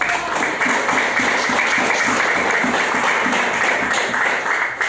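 Classroom applause during a teaching session, a class of students clapping loudly and steadily at close range for several seconds with no talking over it.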